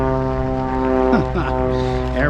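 A steady propeller airplane drones overhead, a continuous engine hum with strong stacked tones, while a voice talks briefly over it partway through.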